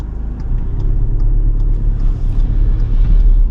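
Car driving up to a roundabout and slowing to a stop, with a loud, steady low engine and road rumble heard from close up and no voices.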